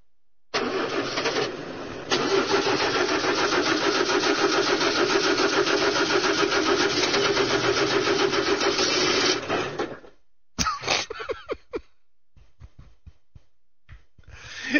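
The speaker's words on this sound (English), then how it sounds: "You've been sitting here for a week with that engine idling, Snake Man." A car engine runs steadily and loudly for about nine seconds, cranking to life and idling with a continuous mid-pitched drone, then cuts out, leaving a few scattered knocks and rustles.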